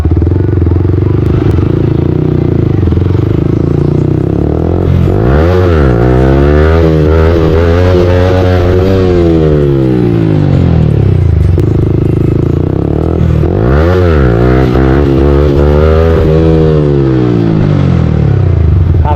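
Motorcycles revving and roaring past on a long group ride near Baramkela, Chhattisgarh, engine pitch sweeping up and down in two loud passes amid clatter and road noise.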